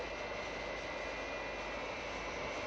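A steady, loud roar of a jet aircraft engine, continuous and unchanging throughout, heard alone with no voices.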